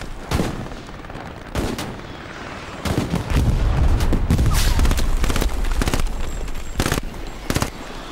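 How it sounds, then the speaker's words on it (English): Gunfire in a Stalingrad battle video game: sharp, loud rifle and machine-gun shots crack in irregular bursts over a rumbling battle din, with some shots close and others farther off. "Oh, taking fire, taking fire."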